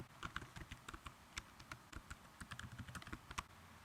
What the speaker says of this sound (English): So I'm just going to go ahead and type here